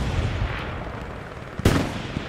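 Gunfire aimed at the player in the World War II shooter Hell Let Loose, a sharp close shot cracking out near the end over steady distant battlefield rumble and scattered faint reports.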